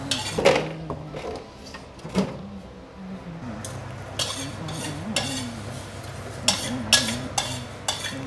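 Cashew nuts stir-fried in a wok, with the scrape and clatter of a spatula against the metal over a low sizzle and irregular knocks and taps, close up.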